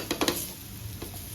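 Veg fish frying in a pan on a low flame, a soft steady sizzle with a few quick scraping stirs near the start, close by.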